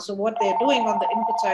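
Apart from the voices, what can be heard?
phone ringing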